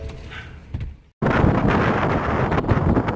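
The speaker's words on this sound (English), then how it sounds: "As you can see, wind is still crazy." Strong wind blows hard outdoors and buffets the microphone, a dense roaring rush that drops out briefly then returns louder and steady.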